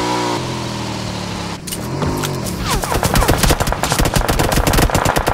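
Rapid bursts of machine gun fire in a video game, one early burst followed after a brief lull by dense overlapping volleys of automatic shots, loud and continuous to the end.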